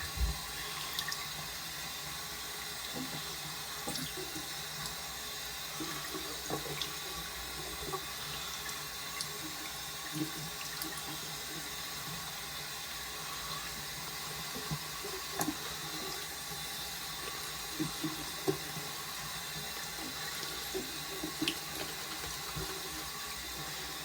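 Tap water runs steadily into a sink during a straight razor shave, a faint, continuous wash with small scattered clicks and knocks, and no talking.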